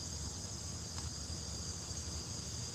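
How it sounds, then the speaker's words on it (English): Cicadas sing in a Florida yard on a hot August morning, a steady high-pitched buzzing drone that carries on unbroken and faintly in the background, no voices. "Them cicadas are rocking this morning there in your yard."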